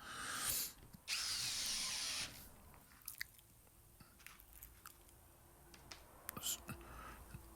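A power drill drives simple screws into wood on a woodworking project, with two loud whirring bursts early on followed by quieter clicks, handling taps and faint shuffling.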